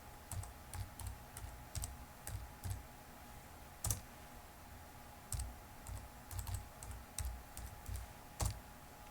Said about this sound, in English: Type yes in all capital letters, and type in your passphrase.